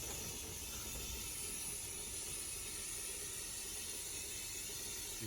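A powder coating spray gun blows a steady, continuous hiss of air and powder into a tight collection box while coating a helicopter cargo hook cage, with the broadband rush holding even and close for the whole stretch.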